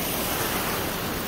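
Sea waves wash at Shrivardhan beach in a steady, broad roar with wind, loud and unbroken, with no voices.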